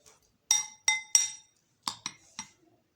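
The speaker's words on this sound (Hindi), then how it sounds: "इसको अच्छी तरह से आप चम्मच या फोर्क की मदद से आप मिक्स कर लें।" Spoon or fork clinking against a glass bowl while mixing shredded boiled chicken, six or so sharp close taps in two quick bursts with brief pauses between.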